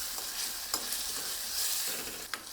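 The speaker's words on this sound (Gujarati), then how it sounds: "ટમેટા પણ એકદમ સરસ મિક્સ કરી લઈશું." Medium tomato pieces stirred into frying parval (pointed gourd) curry in a pan, with a steady close sizzle and the soft scrape of a spoon running through, and no talk.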